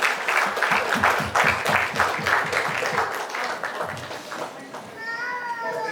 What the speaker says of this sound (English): A big round of applause for the parents, teachers, librarians,